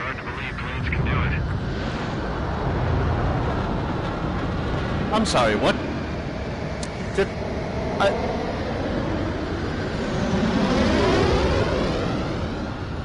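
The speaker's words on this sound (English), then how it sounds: "I'm watching three jets doing fucking double backflips in the air" Jet engines roar steadily in a Top Gun flight game as three jets perform aerobatic maneuvers, with a loud sustained whoosh and rising, sweeping tones, while someone speaks briefly over it.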